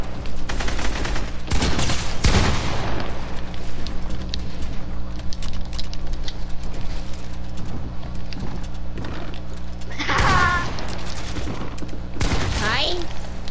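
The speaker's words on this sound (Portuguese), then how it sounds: "Eu jogando CSGO, a cada tiro que eu levo na cabeça eu tomo um sustão" Rapid gunfire from the video game CSGO, a dense continuous burst of shots filling the clip at steady loudness, with brief louder bursts and sharp effects around the middle and near the end.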